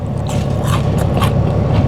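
Loud, close crunching and chewing of crunchy tater tots with crisp bursts of crackle over a steady rumble, no voices.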